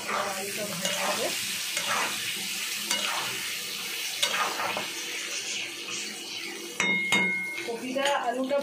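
Potatoes fry and get stirred in a pan in a home kitchen, with close sizzling under repeated scraping and clinks of a utensil against the pan and dishes.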